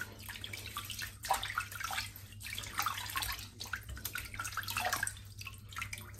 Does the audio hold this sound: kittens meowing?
no